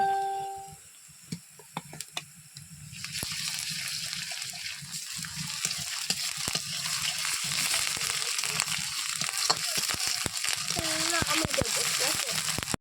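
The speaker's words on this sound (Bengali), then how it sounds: "অলমোস্ট পেঁয়াজ আদা রসুনটা ভাজা হয়ে এসছে" Onion, ginger and garlic paste fry with a steady sizzle and crackling oil, broad and continuous after a quieter start, with occasional clinks and brief voice-like sounds over it.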